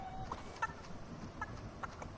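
A chicken in Fortnite gives a few quiet, scattered clucks over soft background noise, fairly faint and with no talking.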